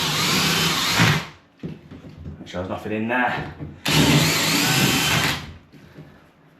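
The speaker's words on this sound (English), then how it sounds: "So all you need is a 20mm drill bit." A power drill fitted with a 20mm bit bores holes into an IKEA unit being converted into a bathroom vanity. Two loud, sustained bursts of whirring drilling are split by a short pause, with a person speaking briefly between them.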